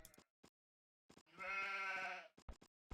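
Sheep bleating in the Age of Empires II game, one sustained wavering bleat in the middle framed by short clicks and taps of game sounds, fairly quiet.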